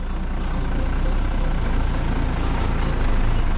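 A chipper truck pulls hard out of a muddy bog, its engine roaring steadily and loudly at close range with a dense, continuous rumble and no gaps.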